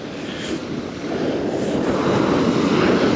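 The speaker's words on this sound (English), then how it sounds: "Two waves just hit me right in a row." Ocean waves breaking on a beach during metal detecting, a steady loud wash of surf building over the clip, with wind rumbling across the microphone.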